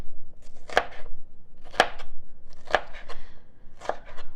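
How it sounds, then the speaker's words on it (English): Diced vegetables for chili are chopped on a board, four sharp knife strikes spaced about a second apart, close and clear with no talk. "I'm not a fan of sitting here chopping this up like this"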